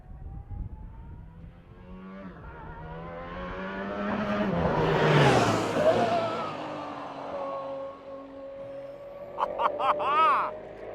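An Aston Martin Valkyrie hypercar runs down the back straight of a private track. Its engine note rises to a loud peak as it passes, then its whine fades into the distance, with people talking faintly nearby.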